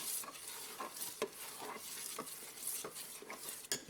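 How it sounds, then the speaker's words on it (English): Southern-style apple butter bubbling in a pot over a low fire, with constant close stirring scrapes and soft plops at an uneven rhythm, quiet overall. "I've got it on a low fire, and as you can see it's starting to boil, and I've been stirring it constantly"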